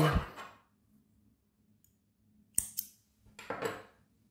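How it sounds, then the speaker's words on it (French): Scissors snip through fine crochet yarn twice in quick succession, small crisp close-up cuts with near silence around them. "je coupe le fil"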